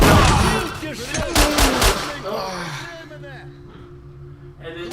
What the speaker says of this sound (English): are you shooting something right now? Yeah, fucking bandits.